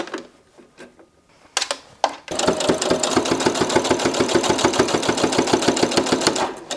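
A sewing machine stitching while clothes are upcycled: a few short starts and stops, then a fast, steady, even run of close mechanical stitching clatter.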